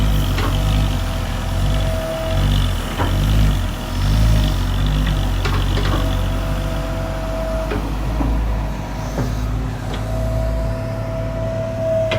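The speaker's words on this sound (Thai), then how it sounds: "เสียงเครื่องยนต์หรือว่าเสียงปั๊มนี่ค่อนข้างสมบูรณ์เลยผู้ชม ไม่โหลดไม่ควันนะครับนี่" A Komatsu PC200-5 excavator's diesel engine runs loud and close at a steady idle in a pit, with a constant low drone and a slight rise and fall, and no talk.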